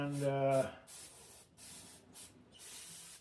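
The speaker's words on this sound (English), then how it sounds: "I'll clean this off with a little bit of brake clean, carburetor clean, whatever it is, same thing really." Brake or carburetor cleaner sprays in short hissing bursts onto the engine of a 1986 Mustang GT 289, close and fairly quiet, following a brief voice at the start.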